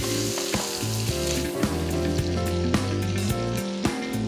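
Bacon and pork loin fry in olive oil in a pan, giving a close, continuous crackling sizzle with small spattering pops. No one speaks.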